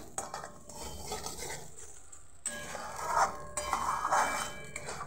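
A spoon scrapes and clinks against a pan as mashed flat beans (sim) are stirred continuously, close by, with a short lull midway before the scraping grows busier again.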